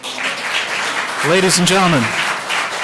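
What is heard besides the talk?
audience clapping at a public meeting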